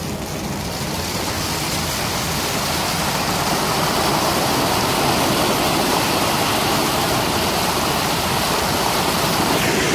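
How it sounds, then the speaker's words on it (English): Wash water discharging from a cement mixer truck's drum, a loud, steady rushing gush of water with a low rumble, continuous and close for the whole stretch with no voices. "I'm gonna discharge all the water slowly. It's about to come out."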